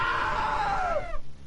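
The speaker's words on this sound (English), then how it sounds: "Now that was a great scream." A single long, loud scream in a PS4 video game, one sustained, sliding voice that drops in pitch for just over a second before it cuts off abruptly.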